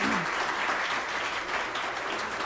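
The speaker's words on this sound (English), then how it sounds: "So why don't we go ahead and give them a round of applause for their..." An audience at a kindergarten graduation claps in a dense, sustained round of applause, many hands together, steady and moderately loud throughout with no voices on top.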